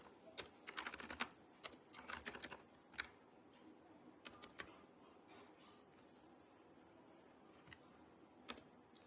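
Computer keyboard typing as a code comment is entered in Python, bursts of quick close key clicks separated by pauses, with a faint steady background whine.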